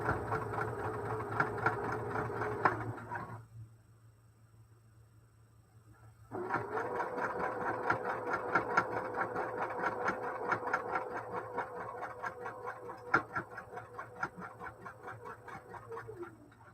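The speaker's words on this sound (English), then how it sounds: "I'm going to sew from a 1/4 inch in from each end" A sewing machine stitches a quilt block, its motor whirring steadily with fast needle clatter, stopping briefly for a few seconds and then resuming for a longer run.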